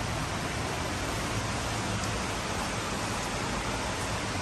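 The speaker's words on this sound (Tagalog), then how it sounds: "It's raining here in Bangkok." Heavy rain pours steadily in Bangkok, a dense, unbroken hiss of downpour that stays close and even throughout, with no voices.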